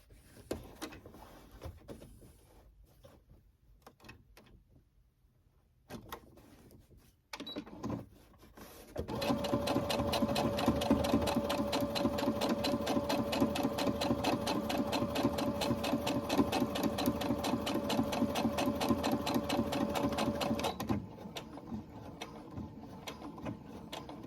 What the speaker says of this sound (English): let's finish sewing up the rest of them